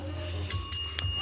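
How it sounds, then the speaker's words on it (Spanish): A bell rings out in short bright strikes, about three chimes in quick succession over a low steady hum, fairly close and clear with no talk over it. "¡Campana!"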